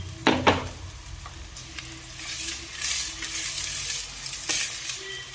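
Ginger-garlic paste fries in hot oil for a dal tempering, a steady close sizzle with a couple of sharp spoon-on-pan clinks near the start and stirring scrapes throughout.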